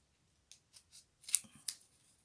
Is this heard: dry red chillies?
no